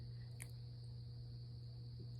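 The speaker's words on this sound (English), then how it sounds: "That's the crickets and the frogs in my backyard." Crickets in a backyard at night, a steady high continuous chirring drone that persists faintly and evenly throughout, with a faint low hum beneath and no talk; frogs are not clearly distinguishable.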